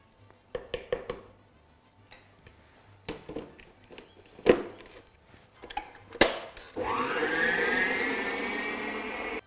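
Butter for cupcake batter is mixed, starting with scattered knocks and clatters of bowl and utensils, then an electric mixer whirs up and runs steadily for the last couple of seconds.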